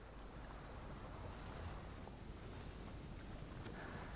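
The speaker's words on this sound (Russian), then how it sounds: "Но вода вообще круто сделана" Water in the Path of Exile video game gives a continuous rushing, splashing wash like surf, even and moderately faint throughout, with no one speaking.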